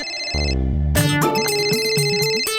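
A bright electronic telephone ringtone plays a busy melodic pattern, loud and close, after a few low electronic tones in a Hindi children's TV series scene.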